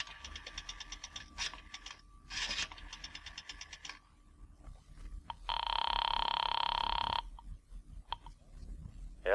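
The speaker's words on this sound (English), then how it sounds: "dropped a nickel in the slot, and dialed" A payphone in a drugstore takes a nickel with metallic clinks, then a rotary dial ratchets through several numbers before a steady ringing tone sounds, all as a radio drama effect.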